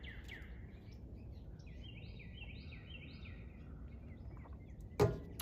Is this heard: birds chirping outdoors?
yes